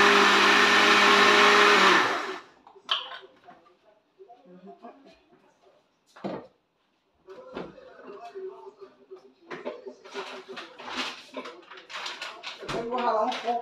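A kitchen blender whirs loudly, beating a cream batter for a zucchini pie for about two seconds, then cuts off abruptly; someone talks afterward amid quieter kitchen clatter.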